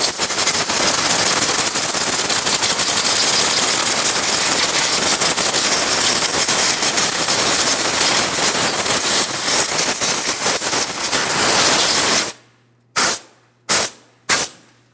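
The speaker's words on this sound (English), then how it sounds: "I'm just going to use some compressed air for this." Compressed air blasting debris off the top of a 2003-2008 Toyota Matrix 1.8L four-cylinder engine: a loud continuous hiss for about twelve seconds, then three short sharp bursts.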